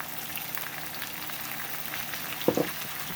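Soy sauce poured into a pan of frying Tulingan fish steaks, a steady crackling sizzle with a brief louder spatter burst near the end.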